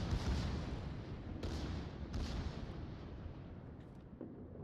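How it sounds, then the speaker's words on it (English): A battleship's main guns fire a salvo in the naval game World of Warships, a deep rumbling barrage of heavy booms with a couple of sharper blasts standing out, heard at a distance and low in level. "that was an amazing salvo"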